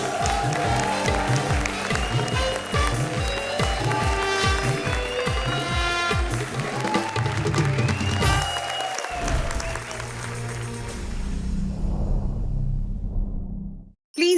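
On a Hindi TV comedy show set, a studio audience gives loud, sustained applause over rhythmic music with a steady beat. The sound drops out abruptly near the end.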